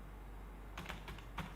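Several quick keystrokes on a computer keyboard, typing a short file name at a command prompt in a quiet room; faint, close clicks clustered in a brief burst after a moment of silence.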